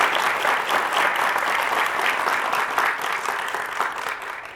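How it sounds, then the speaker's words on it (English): A crowd at a school health and wellness center ribbon-cutting press conference claps steadily, a dense wash of applause that holds strong and then begins to taper slightly toward the end. "Let's give him a big round of applause."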